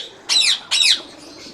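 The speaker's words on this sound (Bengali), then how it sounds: "এই যে ডাকতেছে যে পাখিগুলো ডাকতেছে না" Two sharp, squawking ringneck parakeet calls ring out in quick succession, loud and nearby, with a brief pause between them.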